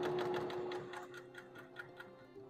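A sewing machine stitching quilt fabric runs at a steady rapid whirring pace for a couple of seconds, close and fairly quiet, with a constant motor hum under the needle ticks.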